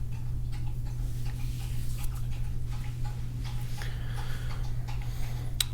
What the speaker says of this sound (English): You can hear the dog drinking water.